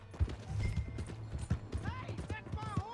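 Horse hooves clip-clopping on the ground in Red Dead Redemption 2, a quick uneven trot close by, with a voice talking over the hoofbeats toward the end.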